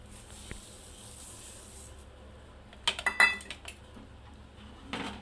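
Rice kheer with sugar just added is stirred in a pot, heard as a short cluster of metallic scrapes and clinks from the spoon, close by, after a quiet stretch, with one more clink at the end.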